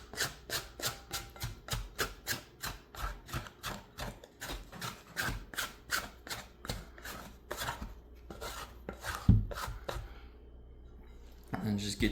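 Hands squish and mix sourdough in a bowl, a quick run of wet slapping and rubbing strokes that slows and then stops near the end.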